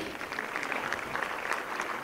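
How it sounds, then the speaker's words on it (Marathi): Loud, steady applause from an audience at a stage event, a dense clapping wash sustained for the full stretch without pause. "यांच्यासाठी एकदा जोरदार टाळ्यांचा गजर आपण केला पाहिजे."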